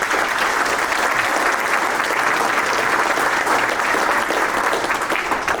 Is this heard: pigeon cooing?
no